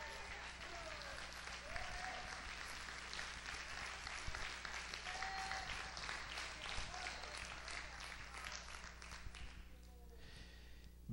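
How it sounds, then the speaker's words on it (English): A church congregation claps hands together in a sustained burst of dense, continuous applause that fills the room, fading slightly near the end as scattered voices come through. "Can you clap your hands to him one more time?"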